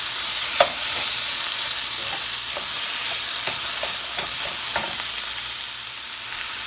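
Onions frying in a pan hiss with a steady, broad sizzle while a spoon scrapes and stirs them in a string of short, uneven clacks, close and fairly loud throughout.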